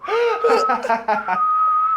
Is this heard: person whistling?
yes